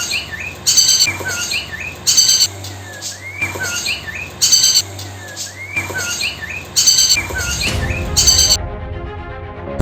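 Higher-pitched call of a female trotol songbird, a grey hen, repeated in about five short bursts of bright chirps and twitters, close and clear, ending with a louder burst over some low background noise.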